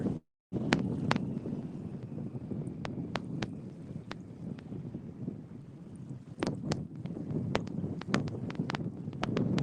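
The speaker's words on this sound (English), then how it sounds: "the wind, I thought it was gonna lay down, but boy, then it just started ripping again" Strong wind buffeting the microphone on a boat drift fishing for bluefish, a continuous rough roar with scattered clicks and knocks from the boat throughout, after a brief drop at the start.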